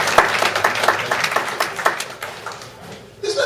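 Brief applause from a brunch crowd, a burst of clapping that fades over about three seconds before other room sound returns.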